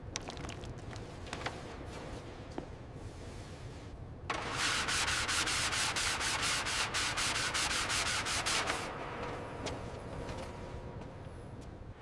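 Bodywork on a heavy transport truck is sanded during restoration; quiet scraping gives way to a louder, steady stretch of rhythmic back-and-forth sanding strokes in the middle, then fades back to faint rubbing, close and without talk.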